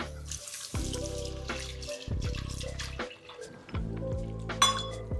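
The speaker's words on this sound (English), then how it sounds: "And now I'm going to add the milk." Milk poured into a cooked roux for a bechamel sauce, heard as a close, steady liquid pour with gurgling and bubbling that rises and falls in bursts, with no talking.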